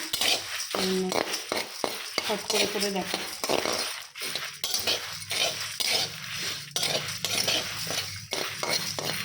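Spice masala stirred in a pan over low heat, with a utensil repeatedly scraping and clinking against the pan amid a soft steady fry, close and continuous while a person talks over it.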